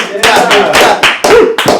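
Close, loud bursts of audience clapping at a Portland stand-up comedy show after comedian Dylan Jenkins finishes his set, coming in several rapid surges with short dips between them.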